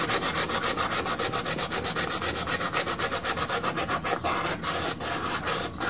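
Hand sanding with 220 grit sandpaper on a walnut rifle stock from a Marlin 336, a brisk, even rhythm of close, raspy back-and-forth strokes that turn slightly irregular toward the end.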